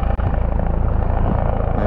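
Helicopter, likely an emergency rescue flight, passing over a mountain bike park in Olpe-Fahlenscheid, Germany: a steady, loud, broadband rotor and engine roar that holds continuous throughout without talk.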